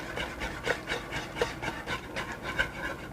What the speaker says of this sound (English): Just going to keep whisking.